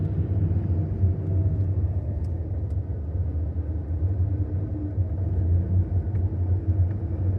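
A Corvette with a manual transmission drives while a beginner learns, its engine holding a steady, deep rumble at close range with no clear revving peaks.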